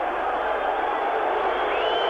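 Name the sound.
rugby crowd reacting with disapproval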